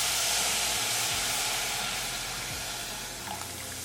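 Milk poured onto hot roasted cracked wheat (dalia) in a pan sizzles and hisses loudly at first, then settles into a softer steady steam hiss.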